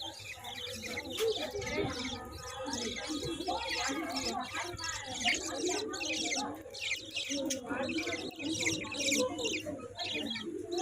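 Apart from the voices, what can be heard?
small parrots chirping in a mall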